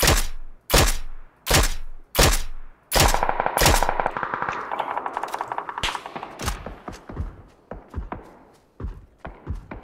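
PUBG gunfire cracks out in sharp, close single shots, then a rapid automatic burst, followed by more scattered, fading reports and light thuds, with no talk over it.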